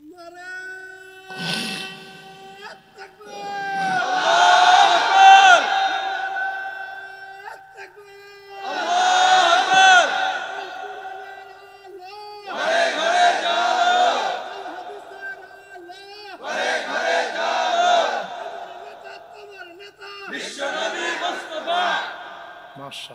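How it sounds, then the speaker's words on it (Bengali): A large crowd at an outdoor Islamic sermon gathering shouts takbir in unison, five or six long, loud chanted waves separated by brief pauses, with a single leading voice calling out before the first. "লিল্লাহে তাকবীর জোরে একজন তাকবীর দেন তো দেখি"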